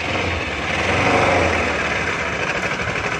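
A Bajaj NS200 motorcycle with a fuse that blows on starting runs at a steady idle, its engine a close, even, rumbling drone that holds for a few seconds without pause.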